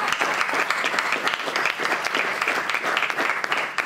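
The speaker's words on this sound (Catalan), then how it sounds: "Un fort aplaudiment" An audience at a poetry and literary reading presentation applauds loudly, a dense steady wash of many hands clapping nearby throughout.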